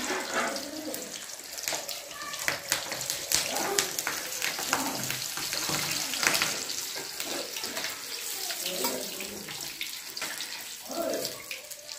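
Green chilies frying in a hot pan while besan ghati is cooked, with a continuous hissing sizzle and scattered crackles running steadily throughout, fairly close.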